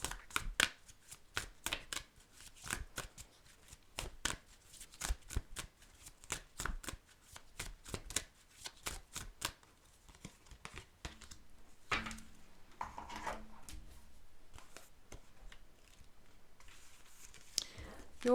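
Enchanted Map Oracle cards are shuffled by hand in quick, repeated riffling bursts up close, then a slower patch of softer card handling follows.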